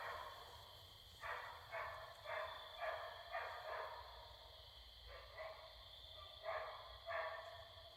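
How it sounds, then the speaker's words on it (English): Several dogs bark in short bursts from a distance at night over a steady, high, continuous chorus of crickets chirping, with no talking. "Dogs and crickets."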